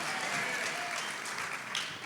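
Sustained crowd applause at a church youth forum, a thick continuous patter of many hands, fairly loud and even throughout with a faint voice briefly underneath.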